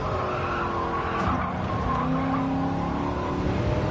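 A De Tomaso race car skids and squeals its tyres through an understeering corner at Monza in GT7, engine droning steadily beneath the continuous, loud scrub of rubber.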